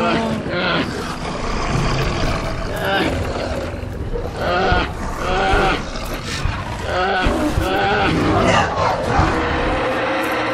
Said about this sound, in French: Oh, des oursons.